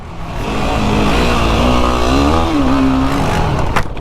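A Yamaha Raptor sport ATV engine revs on an off-road trail ride, holding a loud droning note that climbs and wavers in pitch as the throttle opens, close by and without talk.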